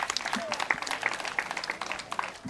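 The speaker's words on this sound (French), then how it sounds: "Ça mérite d'être applaudi une fois de plus." Crowd applause at an award ceremony honouring a cooperative leader with an agricultural merit order, scattered uneven clapping with voices talking over it.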